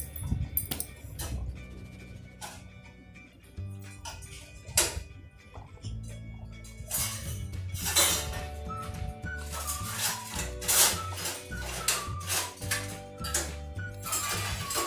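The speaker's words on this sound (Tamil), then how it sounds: "சேர்த்து நல்லா வறுக்க விடுங்க" Peanut masala ingredients are roasted in a pan while a metal spoon clinks and scrapes against it in irregular close knocks, louder and busier toward the end.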